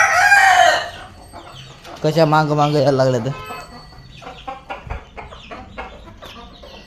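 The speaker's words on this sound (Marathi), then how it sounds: "चला मी तुम्हाला आता आमच्या जवळच्या कोंबड्या दाखवतो" Farm chickens cluck and squawk nearby in short, uneven bursts, with a rooster-like call near the start, while someone talks over them.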